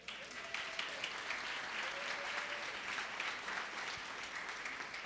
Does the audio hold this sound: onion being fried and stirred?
no